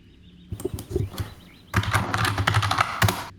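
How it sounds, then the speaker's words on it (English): Computer keyboard keys clack in quick irregular bursts, a short scattered run of taps followed by a denser, louder flurry of typing, close to the microphone with no speech. "Oh, I hear his keyboard."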